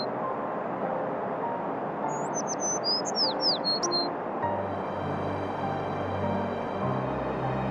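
A sparrow chirps as a sound effect in a narrated story, a few quick high tweets standing out briefly over a steady background hum of distant traffic-like noise, with no speech.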